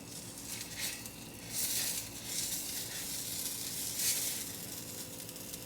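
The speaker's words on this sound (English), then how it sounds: "You're gonna hear sizzle." Mini pizza sizzling as it bakes: a steady, fairly faint crackling hiss with soft swells and bursts, alone without voices.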